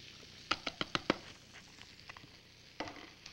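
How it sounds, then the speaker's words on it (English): Chopped leeks dropped into melted butter in a pan, a cluster of sharp clattering pops early on followed by faint, light sizzling and a few later clinks, close and with no talking. "Okay, so we've got the butter melted. I'm going to put the leeks in."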